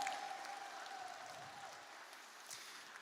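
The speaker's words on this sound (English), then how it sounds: "can we have another round of applause for all of the performers you've seen on stage so far?" Guests at a Tonga relief charity dinner in Brisbane, Australia, give the performers another round of applause, heard as a soft, even patter of many hands that holds steady and fades slightly.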